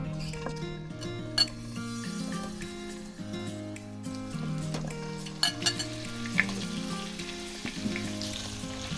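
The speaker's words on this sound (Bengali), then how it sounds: "তেল গরম হয়ে গেছে, আমি কেটে রাখা আলুগুলো দিয়ে দেব।" Cut potatoes fry in hot mustard oil in a kadai on a gas flame, a steady sizzle with occasional metallic clinks and stirring sounds, fairly quiet and without speech.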